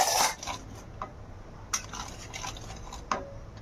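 A spoon stirring a yogurt and spice mixture in a cooking pan, making quiet, intermittent scrapes and clinks spaced irregularly over a soft background.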